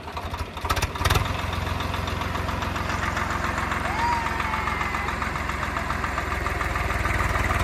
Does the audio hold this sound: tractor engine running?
yes